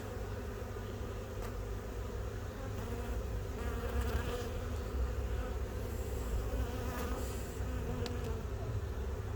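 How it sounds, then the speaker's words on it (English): Steady, dense buzzing of many bees close by as a colony is transferred into a hive, continuous and loud throughout with no voices. "The bees are still going in."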